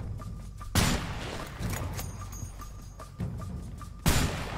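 Gunshots from the co-op video game A Way Out, a series of loud, sharp broadband cracks fired at uneven intervals against a steady background of jungle ambience.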